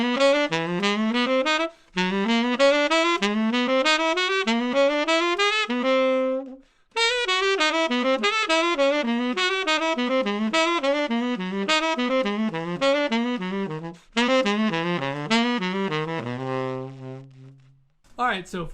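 Tenor saxophone running quick jazz arpeggio lines with chromatic approach notes, a steady stream of connected phrases broken by brief breath pauses, played alone and up close.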